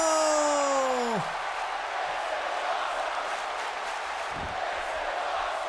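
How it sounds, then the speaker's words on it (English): Crowd noise from the WWE 2K18 wrestling video game: a loud arena crowd in New York roars and chants in a steady wash, with a falling tonal sweep at the start. "The crowd in New York chanting, "This is awesome.""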